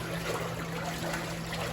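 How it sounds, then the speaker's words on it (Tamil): Water gushes from a 1 HP single-phase openwell pump motor into a tank, a steady rushing flow with a constant low mechanical hum underneath, with no talk. "எவ்வளோ தண்ணி வருதுன்னு பார்க்கலாம்"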